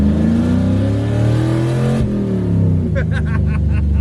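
LS-swapped nitrous car driving around, its engine loud and close with a rising then shifting drone and a gear change midway, a few softer chirps afterward.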